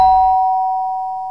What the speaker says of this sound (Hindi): कि डोरबेल बजी।